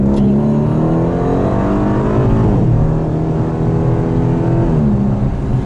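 A 2020 Aston Martin DB11 V8 accelerates hard out of a corner, its engine loud and close, roaring up through the revs with a brief dip as it shifts mid-pull before climbing again, alone without talk.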